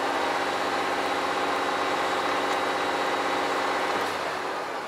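A 2022 Volvo turbocompound truck diesel engine runs loud and steady, its throbbing hum holding at high revs up to about 1900 rpm before easing slightly near the end, with no voices.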